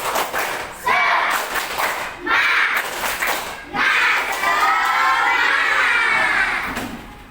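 A class of schoolchildren performs the "tepuk semangat" clapping cheer, loud rhythmic group claps and thumps alternating with bursts of shouted chanting, close and energetic.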